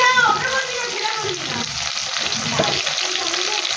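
Black cumin seeds tempering in hot oil over fried tilapia fish give a steady, close frying sizzle with a brief crackling burst near the start, running continuously throughout.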